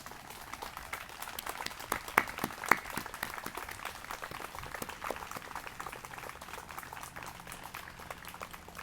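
A seated crowd at a Living History Day ceremony applauds standing descendants of honored ancestors, giving a sustained, fairly distant wash of many hands clapping at even loudness throughout.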